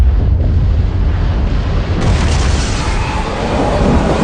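Bomb explosion sound effect: a loud, continuous rumbling roar with heavy low-end boom, intensifying partway through and sustaining without a break or voices.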